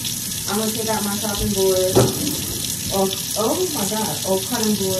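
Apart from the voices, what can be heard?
cold water running from kitchen tap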